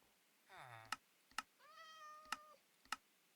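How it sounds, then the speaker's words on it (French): A cat in the Minecraft video game meows in short synthesized calls, several distinct meows separated by sharp clicks or taps, clear and close against a quiet background. "Wesh, il y avait un chat."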